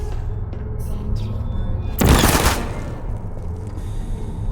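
A short, loud burst of rapid gunfire from Portal, about half a second long, breaking through a steady low background hum, with no voices heard.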